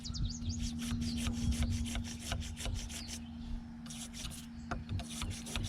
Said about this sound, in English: I'm going to take a small bottle brush, and I'm just going to go in there and clean out all that old grease